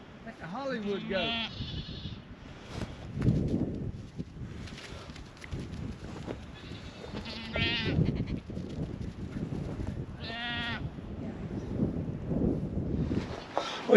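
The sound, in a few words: goats bleating on a farm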